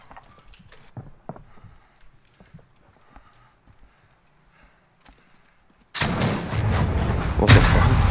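Thermite charge in Modern Warfare 2019 gameplay, a quiet stretch of scattered faint game noises and footsteps, then a sudden loud, sustained burning roar that continues to the end.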